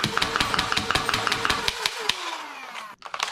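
Dart Zone Venom Pro full-auto toy blaster: flywheel motors whir up, then a rapid, even stream of clattering dart shots, followed by the motors spinning down in a falling whine, close and fairly loud.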